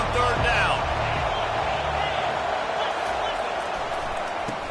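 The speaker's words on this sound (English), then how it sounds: "Decibels rising as the crowd gets behind this defense on 3rd down." A stadium crowd roars steadily in College Football 25 as fans rally behind the defense on third down, a dense, sustained wash of cheering throughout with a faint whistle-like tone early on.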